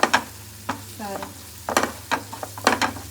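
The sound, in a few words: frying tamarind leaf curry in oil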